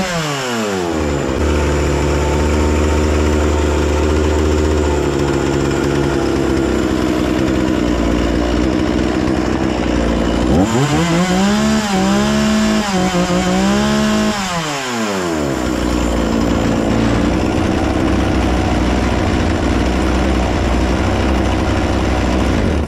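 Husqvarna 236 chainsaw engine running loudly up close after a restart, idling with a brief revving surge partway through before settling back to a steady idle.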